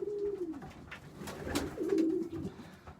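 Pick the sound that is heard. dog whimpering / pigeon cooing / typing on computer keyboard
pigeon cooing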